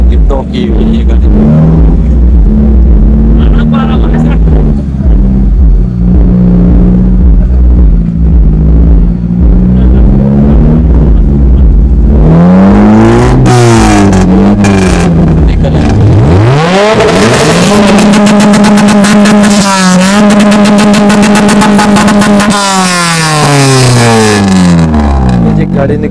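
A stuck car at the Peshawar auto show, caught in a dead drop, revs its engine hard over and over, rising and falling in loud surges, with a crowd cheering and people talking throughout.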